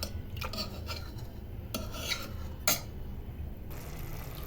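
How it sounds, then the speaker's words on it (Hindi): Kidney beans being mashed with a ladle in a cooking pot alongside simmering turnips, giving close, irregular scraping and clinking strokes of metal on metal, with no one speaking. "देखिए राजमा हम थोड़े से इस तरीके से क्रश कर देंगे"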